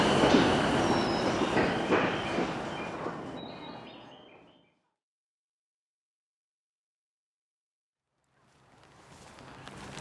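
Train pulling into a station in Japan, its rumble and wheel squeal loud and close, then fading to silence before a quieter return of rolling noise near the end.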